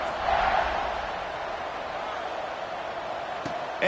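Stadium crowd at a Baylor college football game roaring steadily before a kickoff, a dense broad swell of many voices, loud and continuous, with a brief surge near the end.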